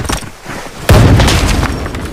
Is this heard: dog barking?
no